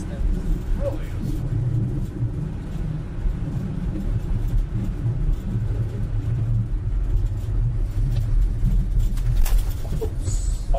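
A sailplane's big steel skid scrapes along the runway during landing, a close, loud, continuous low rumble with a few sharper knocks near the end as it hits bumps in the runway surface.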